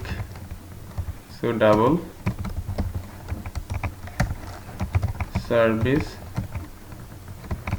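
Computer keyboard typing while C# code is written, a steady run of light, close key clicks continuing under a voice talking at intervals.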